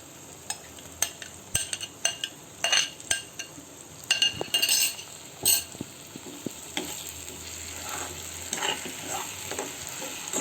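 A spoon stirs a masala of tomato purée frying in oil for dhaba-style aloo matar korma, with repeated scraping clinks against the pan over a steady sizzle that grows denser toward the end.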